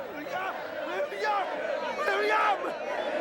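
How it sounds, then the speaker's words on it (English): Excited crowd of children and old ladies at a medieval jousting event, a busy mix of overlapping cheering voices and chatter that stays fairly steady and close throughout. "Here's the fickle crowd you were talking about."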